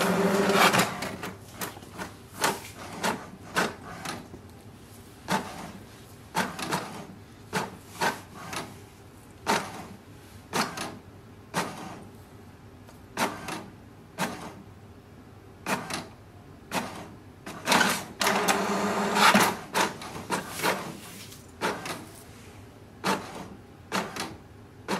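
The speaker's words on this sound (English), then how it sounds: "Press the wireless button once and wait for the printer to print a page." An HP DeskJet 2755e inkjet printer prints a page with repeated mechanical clicks, whirs and carriage shuttling in an irregular rhythm, close by and steady for a long stretch.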